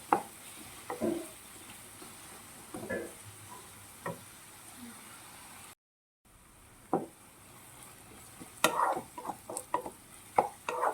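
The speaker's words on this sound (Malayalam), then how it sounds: "ഇത് നല്ലോണം വഴറ്റിയെടുക്കണേ, ഈ സവാളയും കൊച്ചുള്ളിയും കൂടെ" Onions and shallots are stirred and sautéed in a pan for a homemade beef fry, with soft frying sizzle under intermittent scraping clinks of a spoon against the pan. One brief silent gap interrupts it.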